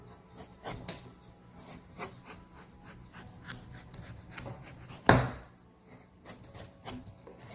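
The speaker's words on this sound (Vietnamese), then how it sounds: "Bây giờ mình sẽ gọt vỏ và vẽ hình mặt trên trái bí nha." A kitchen peeler shaving the skin off a pumpkin before carving, giving repeated short rasping scrapes at an irregular pace, close up, with one louder knock partway through.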